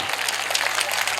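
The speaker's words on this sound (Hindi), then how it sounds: "तालियां कमजोर हैं आपकी" Audience at a Hindi poetry recital offers thin, subdued applause, a brief patter of scattered clapping that stays light and even throughout.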